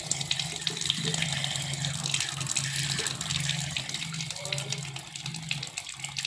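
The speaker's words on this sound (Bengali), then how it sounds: "এরপর রসুনগুলোকে ধুয়ে নিচ্ছি।" Garlic cloves being washed under a running kitchen tap: a steady close hiss of flowing water with splashing and rustling as the cloves are rinsed, continuous and fairly loud.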